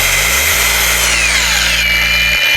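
A Dnipro-M 20V cordless angle grinder runs on its faster cutting speed. Its motor spins up within half a second into a loud, steady high whine, then cuts off just before the end.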